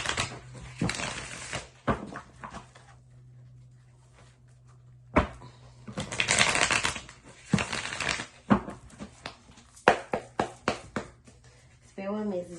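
Tarot cards being shuffled during a reading, a run of sharp papery riffles and slaps in uneven bursts, close and fairly loud, with quiet gaps between shuffles and a steady low hum underneath.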